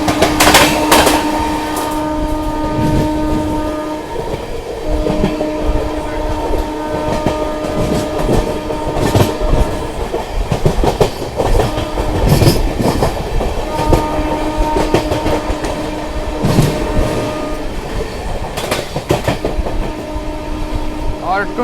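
Heard from on board, the Amrit Bharat Express runs through Tundla Junction with loud, continuous rumbling and rhythmic clickety-clack over the rails. Horn tones rise in places, and voices can be faintly heard under the train noise.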